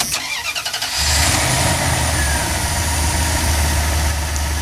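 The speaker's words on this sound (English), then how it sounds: "the engine started normally and sounded good" A car engine cranks with a rapid pulsing starter whir, then catches and settles into a steady, even idle after spark plugs and wires were replaced.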